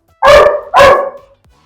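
Two loud, close barks a fraction of a second apart from German Shepherd dogs in a kennel, followed by a short fading tail and quiet.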